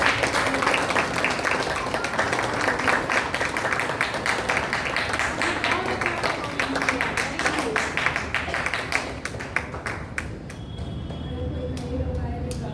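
Children and adults at a junior Arya Samaj kids' programme in Bangalore clap loudly in a long, continuous round of applause with a rhythmic pulse, thinning into scattered claps near the end, with some voices mixed in.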